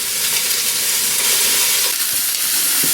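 Sausages sizzle and hiss steadily in a hot pan while cooking for a chunky vegetable pasta sauce, a dense continuous frying crackle heard close up with no talking.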